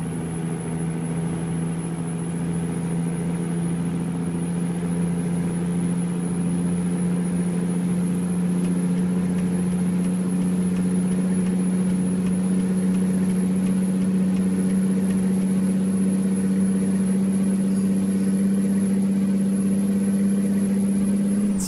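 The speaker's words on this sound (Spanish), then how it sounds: "qué tal si escuchamos el motor por acá en esta parte" A Kenworth W900 truck in American Truck Simulator, heavily loaded with onions and running in eleventh gear, drones with a steady low engine hum and a constant high whine that stays even throughout, with no talk.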